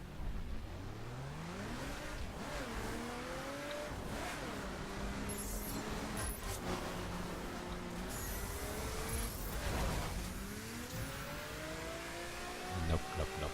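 A car engine in the racing game The Crew revs and climbs through gears while driving off-road, loud and continuous with rising whines that drop at each shift, plus scattered bumps and thuds, under occasional talk.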